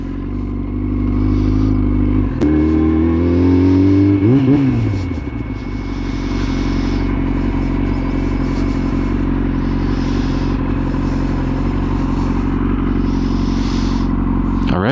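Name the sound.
engine revving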